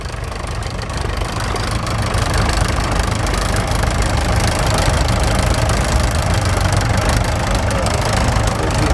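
A heavy engine of a vintage County tractor, a converted Ford, idles steadily with a deep, knocking rumble that grows slightly louder after a couple of seconds, running continuously throughout at an old-time rally.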